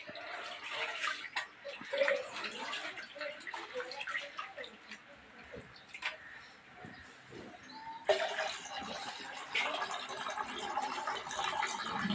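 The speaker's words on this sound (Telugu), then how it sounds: "ఇప్పుడు మనం పప్పు అయితే కడుక్కోవాలి మళ్ళీ కడగాల పప్పు" Water sloshes and swirls in a container, with small splashes and drips as lentils are rinsed; the splashing grows louder partway through.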